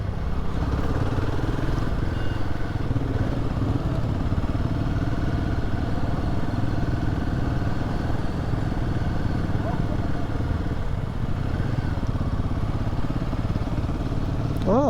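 Motorbikes passing on a road in India, a steady loud rumble of engines with clatter over continuous traffic noise, people talking over it.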